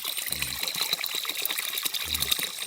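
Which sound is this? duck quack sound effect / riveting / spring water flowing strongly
spring water flowing strongly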